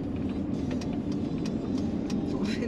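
Large truck rumbling past on a road in the Pyrénées-Orientales, a steady low engine and tyre roar that stays loud and close throughout, with faint higher rattles on top.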